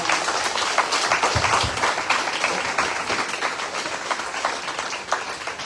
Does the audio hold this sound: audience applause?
yes